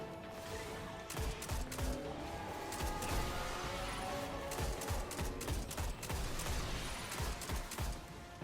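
Rapid gunfire and blasts in a Destiny Challenge of Elders solo Hunter run: dense, sustained bursts of machine-gun shots with sharp impacts layered over a steady game soundscape, no speech.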